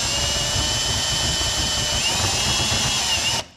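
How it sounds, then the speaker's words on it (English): A power drill bores a hole for a BMW wing fitment, a loud steady whine held for just over three seconds before it cuts off abruptly. "So drill on one. You're just drilling a little bit."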